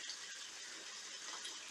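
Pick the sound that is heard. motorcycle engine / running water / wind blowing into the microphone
running water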